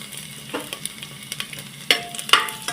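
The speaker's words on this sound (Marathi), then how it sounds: "आता तूप गरम झालेलं आहे आपण त्याच्यात लसूण घालूया" Chopped garlic and green chillies sizzle in hot ghee in a pan, a close crackling fry broken by short louder spits and a few stirring scrapes, with no talking.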